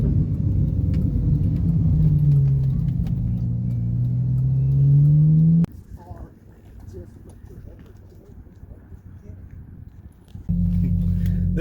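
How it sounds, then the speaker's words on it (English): Car engines rev loudly nearby, a rising and falling roar that cuts off abruptly midway and then returns, with some light road and background noise in between. "We just got done revving our cars for them."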